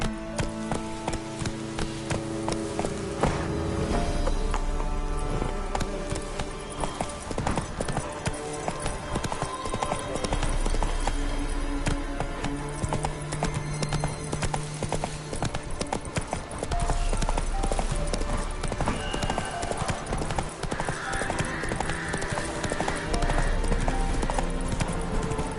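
Roach the horse gallops in The Witcher 3, steady hoof clip-clops drumming over a dense game score with music and effects throughout.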